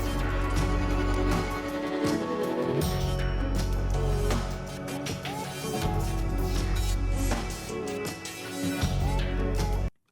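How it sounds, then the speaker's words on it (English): Dense battle music from the Clair Obscur soundtrack, its electronic buzzing and crackling textures made with an electric generator, plays loud and continuous under layered orchestral and percussive parts, ending abruptly. "They literally used a fucking electric generator to make these noises."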